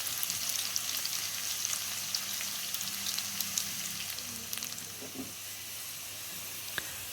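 A blended spice paste fries in a hot pan for woku-style snapper, giving a steady, soft sizzle and hiss with occasional stirring scrapes, alone and fairly quiet.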